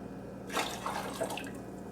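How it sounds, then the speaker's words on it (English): Lukewarm water pours from a tap into a large pot while warming a glass skull candle decoration, a close, steady splashing and trickling stream that starts abruptly and runs on alone, quietly. "the other pot half filled with lukewarm water to mildly warm water, and I'm going to go ahead and I'm going to add just a little bit to my big pot"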